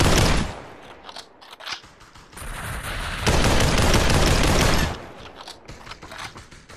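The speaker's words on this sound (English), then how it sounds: "I just put all of those rounds into him." Rapid automatic gunfire in the VR shooter Population One, loud bursts with a sustained heavy stretch of continuous fire in the middle, no talk over it.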